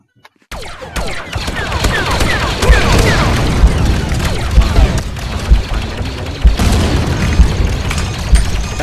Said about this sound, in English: I just rocket launched him